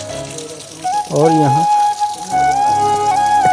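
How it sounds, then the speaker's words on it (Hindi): Water falls and drips beneath a rock overhang at a cave in Chitrakoot, making a steady hiss under a voice speaking nearby. "अच्छा पानी तो गिरता है"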